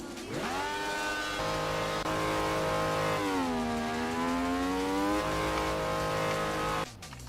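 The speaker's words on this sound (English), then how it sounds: "I mean, I could maybe use one of these engine sounds." Car engine revving hard to very high rpm, around 15,000, for a Toyota Trueno (AE86) build, a loud sustained rising and falling whine with gear-like pitch shifts, heard alone, cutting off near the end.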